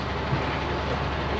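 Steady low rumble and broadband hiss of a large high-speed railway station in China, with no clear voices standing out.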